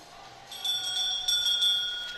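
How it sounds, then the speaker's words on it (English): A bell rings to signal the next elimination in an arena skating race, sustained high ringing tones repeating over about two seconds against a steady hall background, moderately loud and close. "Now we have the bell"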